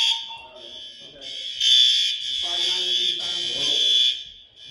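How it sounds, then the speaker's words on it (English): A building fire alarm system under test sounds a loud, steady high-pitched electronic tone that pulses on and off with short gaps. A person speaks over it. "Yeah, they're just testing the alarm."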